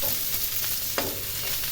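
Malabar spinach seeds fry in a pan with a steady, close sizzle and a soft stirring scrape midway, with no voices.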